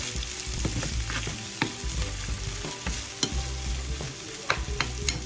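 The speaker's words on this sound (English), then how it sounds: "I'm going to go ahead and saute these vegetables" Vegetables with a little garlic sauteing for chili in a hot pan, a continuous sizzle broken by irregular scraping stirs, close and fairly loud with no talk.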